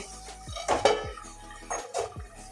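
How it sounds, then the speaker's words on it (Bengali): A metal lid set onto a cooking pot of rohu fish head curry, with a few clanking knocks and clinks of metal cookware, close and fairly quiet. "এবারে ঢাকা দিয়ে দিচ্ছি।"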